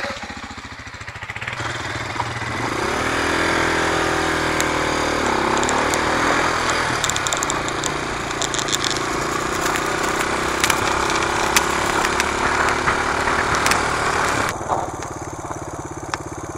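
A motorbike engine runs loud and close for the whole stretch, a steady, rough drone with slight rises and dips in revs, heard on its own without voices.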